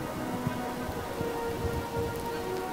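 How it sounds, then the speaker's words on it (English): Steady rain with a faint low rumble of thunder, from a thunderstorm in the Cities Skylines city-building game, a continuous even wash of rainfall with no talking. "Oh, lightning. Look at that."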